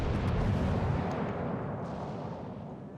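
Naval guns booming in World of Warships Legends, a heavy rumbling barrage that starts loud and slowly fades as the salvo rolls on, with no voices over it.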